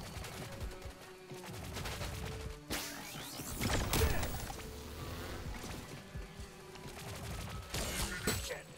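Bursts of weapon gunfire from the video game High On Life ring out in rapid volleys, loud and close over a busy, clattering game soundscape.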